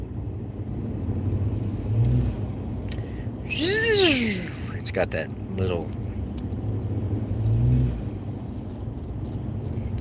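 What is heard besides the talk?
pickup truck turbos under acceleration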